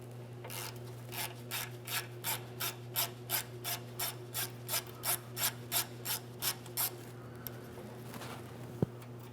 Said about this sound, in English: We're going to start draining the power steering system by loosening this 6mm headed clamp.